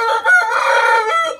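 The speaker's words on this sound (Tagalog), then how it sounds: "Yung native natin na manok." A native rooster crows loudly and close by, one long drawn-out cock-a-doodle-doo call, strained and harmonic-rich, lasting the whole moment.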